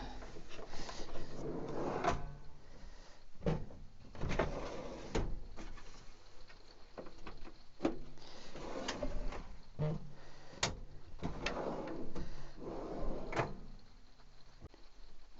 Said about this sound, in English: Now that's the drawers back in place